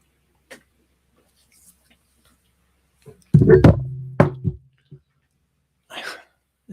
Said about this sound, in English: As I knock things off my desk